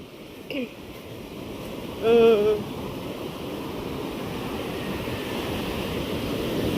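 Steady broadband wash of surf rolling onto a shore, continuous and fairly close, with a brief voice-like sound near the start.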